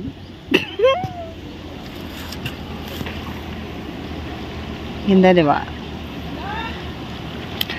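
A river with rocky shallows flows in a steady, close broadband rush, with a few people chatting over it and a brief cough-like burst.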